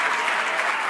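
Dense applause from an audience at a sold-out evening event, a brief steady wash of clapping heard up close.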